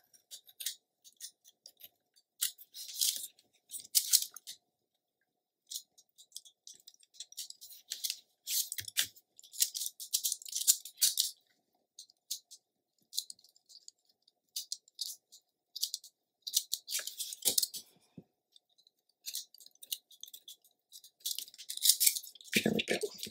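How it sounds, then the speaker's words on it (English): Repeated crisp snips of scissors trimming shifted tape off the edge of paper for a mini album, coming in short irregular bursts with quiet gaps, close and clear with no talk. "You can see my tape shifted, so I'm going to trim that off"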